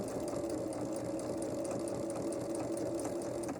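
A sewing machine runs steadily, stitching directly along a marked line for a table runner flower, a close, continuous mechanical whir with a faint rhythmic patter and no pauses.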